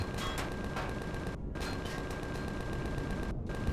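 Ship-mounted side guns fire in the space game Empyrion Reforged Eden, producing a dense, continuous stream of rapid shots, broken by two brief pauses.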